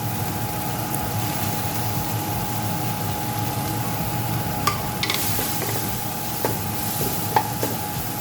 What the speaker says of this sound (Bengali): এগুলো এখন আমি দিয়ে দিচ্ছি।